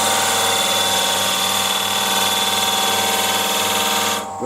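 Wood lathe spinning a candlestick blank while a skew chisel's point cuts in behind a bead, a loud steady whirring drone with a faint cutting hiss, ending abruptly as the tool lifts.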